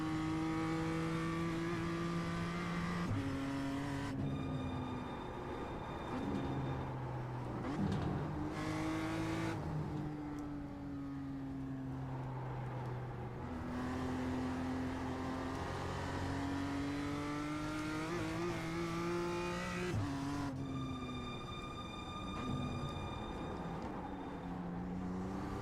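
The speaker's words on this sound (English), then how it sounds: "The car is trying to speed." A BMW M2 race car engine in the iRacing simulator revs and shifts repeatedly, the pitch climbing under acceleration and then dropping at each gear change, steady and loud throughout with no talking.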